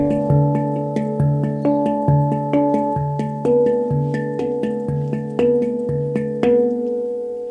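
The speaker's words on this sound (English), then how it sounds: "A handpan, but it's a space drum" A handpan is struck in a steady melodic pattern, each ringing, bell-like note blooming and decaying as the next overlaps it, played close and alone.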